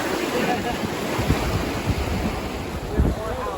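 Raft rushing through Class 1 white water rapids, continuous roar of churning water and wind buffeting the microphone, with occasional thumps and a voice underneath.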